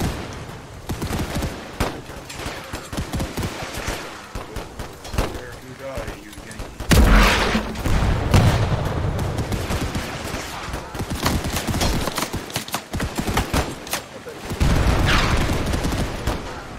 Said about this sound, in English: What's the machine gun fire,